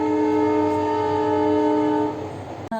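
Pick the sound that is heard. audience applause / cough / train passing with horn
train passing with horn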